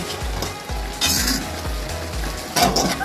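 Taro leaves (laing) being flipped and stirred in a pan, with a steady sizzle of frying under repeated low scraping thumps and a few brighter clinks of utensil on metal, close and fairly loud, no talking.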